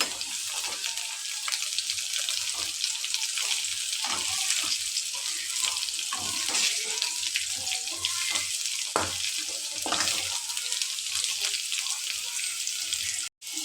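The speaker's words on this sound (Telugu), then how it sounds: "ఇలా సన్నగా కట్ చేసుకొని ఇలా నూనెలో వేయించుకోండి చేదు పోయేంత వరకు" Thin-cut bitter gourd slices fry in hot oil in a kadai, giving a steady, dense sizzle with occasional utensil clinks and stirring, close and continuous throughout, with no talk.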